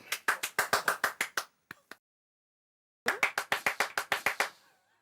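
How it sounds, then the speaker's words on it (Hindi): A few people clap their hands in quick bursts, a rapid run of sharp close claps, a couple of stray claps, a pause of silence, then another brisk burst that fades out. "बजाओ ताली।"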